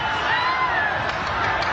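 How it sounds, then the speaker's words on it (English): A boxing arena crowd roars steadily throughout a 1996 Manny Pacquiao versus Rustico Torrecampo bout, a dense wash of cheering and shouting that stays loud with no pauses, with a commentator's voice partly blended in. "And the crowd's on its feet."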